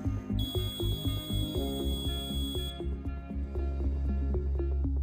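A sensor device sounds its alarm on exposure to nerve gas mimic vapor: steady electronic tones with rapid repeating pulses and a high whine in the first half, fairly quiet and continuous with no voices.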